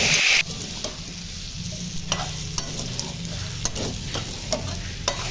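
Two chopped tomatoes and green chilies sauté for a potato curry, a close steady sizzle with repeated spatula scrapes and knocks against the pan throughout, after a brief louder burst at the start.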